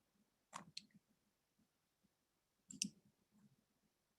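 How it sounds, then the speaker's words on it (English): Computer keyboard clicking during a webinar, two faint clusters of sharp clicks about two seconds apart, with no talk. "it's a very responsive keyboard here"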